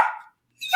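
A dog barks twice, loud and close, with a short gap of silence between the two barks.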